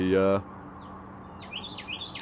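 A pet bird chirps in the morning indoors, a series of quick bright tweets and short calls after a brief loud tonal burst at the start, fairly close and clear.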